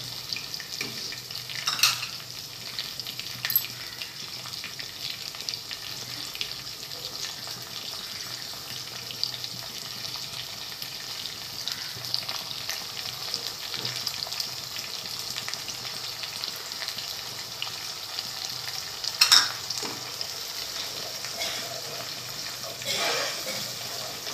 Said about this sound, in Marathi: दोन ते तीन मिनिटं भाजून घ्यायचं कांदा।